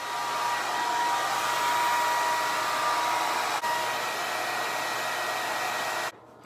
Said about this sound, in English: And I am using Hot Tools Iconic, which I love. It has a diffuser, and I'm going to use it